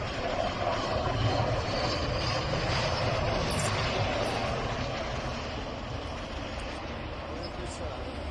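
An airplane lands on the new runway at Béjaia airport, a steady loud engine roar sustained throughout and easing slightly toward the end, with faint talk underneath.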